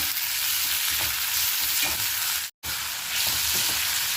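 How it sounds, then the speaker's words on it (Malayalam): Sliced onions with salt sauté in a pan with a steady, close hiss of frying that breaks off briefly and resumes. "ഇതിലേക്ക് ആവശ്യത്തിനുള്ള ഉപ്പും ചേർത്ത് വഴറ്റാം."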